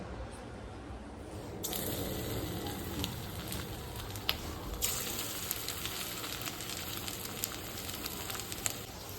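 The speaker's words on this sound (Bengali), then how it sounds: "সেটাকে একটু তেলে ভেজে নেব" Marinated chicken frying in a small amount of oil, a faint steady crackling sizzle that runs throughout with occasional sharper pops.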